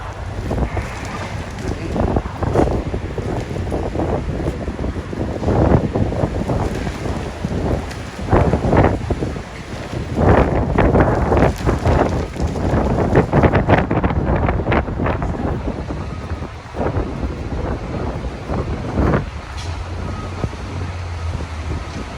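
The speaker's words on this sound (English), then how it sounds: "Winds are supposed to pick up 50, 60 miles an hour." Strong gusty wind sweeps across the microphone during a high-wind day at an unstable scaffolding incident with firefighters operating nearby, roaring loud and continuous for the whole stretch with surging bursts and buffeting.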